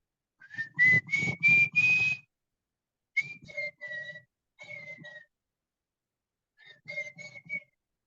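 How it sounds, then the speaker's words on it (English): A man whistles a tune at a training program, clear bright melodic phrases in four separate bursts with pauses between them, close and solo without talking. "Anybody else would like to whistle a song for us?"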